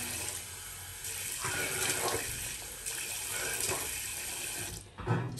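A tap runs steadily into a sink while a man rinses his face before a shave, a continuous rushing stream with splashing variations, ending in a brief louder splash.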